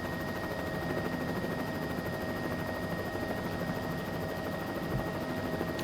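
Bell 206L3 helicopter in Microsoft Flight Simulator 2024, a steady, even turbine whine and rotor drone held at a constant moderate level from start to finish, with no voices over it.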